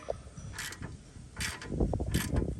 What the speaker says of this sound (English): So Leah has a ratchet with the 17 on it, and then a wrench on the other end